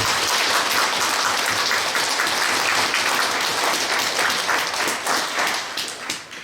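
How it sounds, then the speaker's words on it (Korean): A church congregation at an elder ordination thanksgiving service gives sustained, loud applause, many hands clapping at once before it thins and fades at the end. "우리 큰 박수로 축하하겠습니다."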